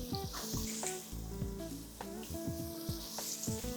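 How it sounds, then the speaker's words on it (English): Chopped onions, celery and carrots hit a hot pot and sizzle steadily, a close, continuous frying hiss with soft clatter and stirring knocks over the top, no voices. "So we're just gonna grab these onions, celery, carrots, add all of that to the pot right away."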